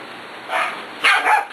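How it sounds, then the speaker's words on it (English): A dog gives two short barks close by, the second louder, with a brief pause between them and no speech. "what are you barking at?"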